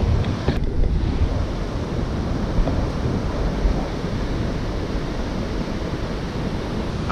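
Ocean surf at a beach, a steady wash of breaking waves mixed with heavy wind buffeting the microphone, continuous and fairly loud with no voices.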